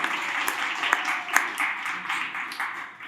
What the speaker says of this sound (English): Give him a round of applause, Dr. Michael Leahy